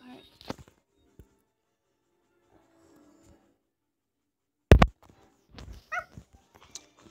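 A girl imitates a dog, giving a few short yips and whimpering barks during a Minecraft game session, the bursts coming close and fairly loud after a mostly quiet stretch.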